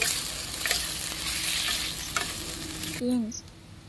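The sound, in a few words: stirring frying food with meat masala in a pan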